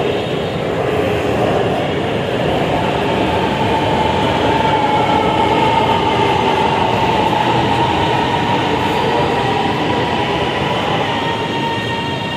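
A Lahore Orange Line metro train running, a steady loud rumble and rushing hum of wheels on rail that continues unbroken throughout, with faint clatter and a high squeal riding on top.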